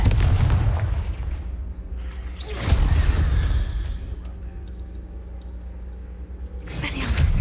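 Blasting spells from the Hogwarts Legacy video game erupt in deep booming explosions with rumbling tails, two or three heavy blasts spread over several seconds, and a player's voice talks between them.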